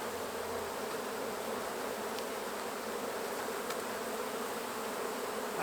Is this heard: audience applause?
no